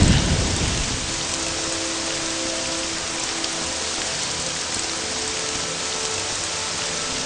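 Steady, dense rain in the video game Morrowind pours continuously, loud and close, a broad hiss with a faint low rumble of thunder beneath it. No voices.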